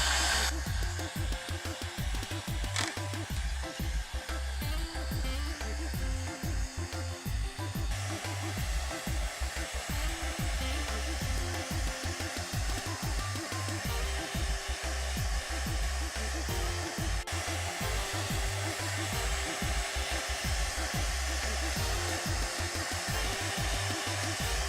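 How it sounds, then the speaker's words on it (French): A large heat gun, like a heavy-duty hair dryer, blows steadily to melt wax for an aluminium casting mould, its loud continuous whooshing roar holding close and unbroken throughout. "on utilise un décapeur. Donc c'est un gros sèche-cheveux qui nous permet de faire fondre la cire assez rapidement"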